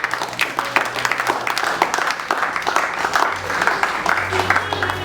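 An audience claps at a 25th wedding anniversary celebration, giving fairly loud, uneven applause with distinct individual claps, while a low steady hum and some chatter run underneath.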